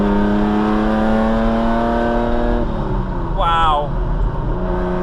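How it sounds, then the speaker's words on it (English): Lamborghini Countach 5000 QV with a straight-through exhaust, a loud steady engine drone close by that shifts pitch midway, with a brief rising whine and someone talking over it. "the Lamborghini Countach 5000 QV. As you can hear, this is pretty loud. This has got a straight through pipe, which makes it insanely loud."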